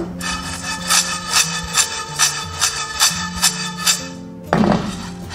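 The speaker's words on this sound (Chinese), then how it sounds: "先开中火，给它水分炒干。" Raw rice and glutinous rice stir-fried dry in a pot over medium heat, giving a steady scraping rasp with rhythmic stirring strokes roughly every second, close and fairly loud, with a heavier clatter near the end.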